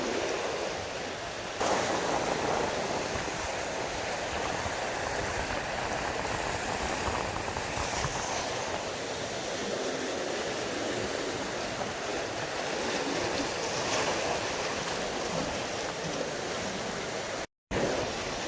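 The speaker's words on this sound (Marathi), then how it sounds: "चांगलीच लाट आली मित्रांनो." Sea waves break on the shore during traditional rod fishing, making a steady, close, rushing roar that continues without pause and cuts out briefly near the end.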